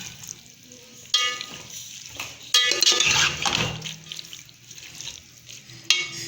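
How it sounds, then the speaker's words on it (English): Chow mein sauce of red chili sauce, soy sauce and vinegar being stirred in a pan, with scraping and clinking of a utensil against metal and light sizzling, rising in louder bursts, no talking. "Now mix it."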